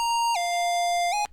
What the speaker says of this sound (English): which is a screamer lead, which is used in a lot of EDM beats